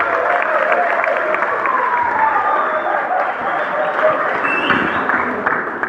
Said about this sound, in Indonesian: Beri tepuk tangan lagi untuk orang tua kalian.